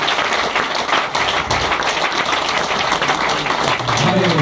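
Audience clapping at a gathering as a guest is invited up, a dense continuous patter of many hands with a voice over it near the end.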